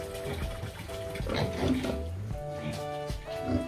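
Piglets about one to two weeks old on a pig farm in Bali, squealing and oinking in shrill, repeated bursts at close range, with some splashing water in the background.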